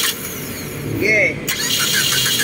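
A 2012 Mitsubishi Lancer EX being cranked while troubleshooting a no-start ignition problem, with a brief squealing starter whine rising mid-clip over a steady mechanical drone and voices talking nearby.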